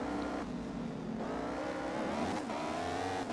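A racing motorcycle engine in MotoGP 15 drones at high revs, pitch dipping and climbing through shifts, a steady whining roar held close for a few seconds.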